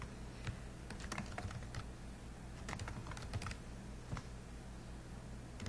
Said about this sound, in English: So I'm going to type her name in here.